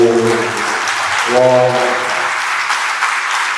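A church congregation claps in praise during a worship service, dense and lively, while voices ring out with sustained shouted exclamations over the clapping in the first half.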